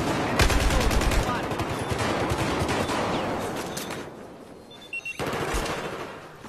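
Sustained automatic gunfire in Battlefield 4, loud and dense with rapid machine-gun bursts, a short lull near the end before firing picks up again.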